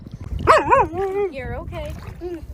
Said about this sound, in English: You hear so many dogs.